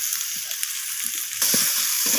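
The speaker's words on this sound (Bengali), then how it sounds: "সমস্ত কিছু মশলা আমি এইভাবে সবজির সাথে নাড়াচাড়া করে কষিয়ে নেব।" Spiced vegetables for Bengali shukto frying in a pan with chili and cumin powder, a steady hiss that jumps louder partway through as they are turned and stirred, with faint utensil scrapes; no voices.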